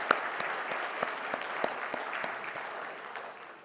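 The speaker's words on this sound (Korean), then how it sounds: "2025년 새해를 우리에게 허락하신 하나님께 감사의 박수를 먼저 올려드리겠습니다." A church congregation claps together at a Sunday worship service, steady soft applause from a roomful of people with a few distinct nearer claps, fairly quiet and even throughout.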